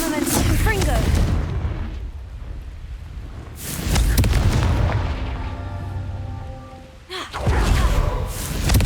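Blasting-curse explosions from the Confringo spell in Hogwarts Legacy, a few loud booming blasts with long rumbling decays, close and heavy, separated by quieter stretches of low game ambience.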